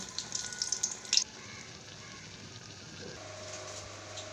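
Batter-dipped eggplant slices fry in hot oil with a steady, soft sizzle and some brief crackling bursts near the start, then a quieter even hiss.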